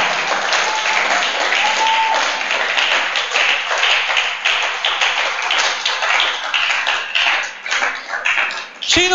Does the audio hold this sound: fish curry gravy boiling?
no